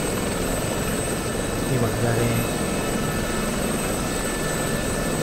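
An SA342 Gazelle helicopter in the DCS flight simulator holds a steady hover, its rotor and turbine making a continuous dense drone throughout, with someone speaking briefly over it.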